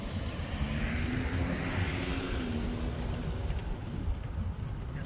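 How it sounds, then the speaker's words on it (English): A car engine hums and rumbles steadily nearby, its tone shifting slightly as it moves past, with a low road noise throughout. "Let's wait for this car to maybe go."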